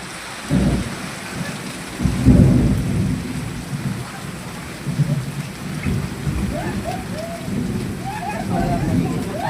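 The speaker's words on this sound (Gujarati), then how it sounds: "મોટી વીજળી પડવાની" Thunder rolls through a heavy village rainstorm, with deep rumbles building near the start and a louder, longer peal around the middle, all over a steady hiss of rain pouring onto surfaces.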